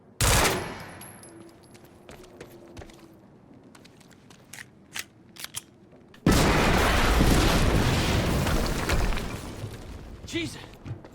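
Gunfire and a loud blast in the video game Quantum Break, with a few sharp shots early on, then a sudden, sustained roar of noise for the last several seconds. A voice talks briefly over the game sounds.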